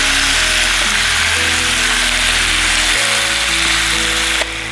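Pork chops searing in a hot pan give a loud, steady, broadband sizzle that crackles continuously with no talking, while a low tonal hum shifts beneath it.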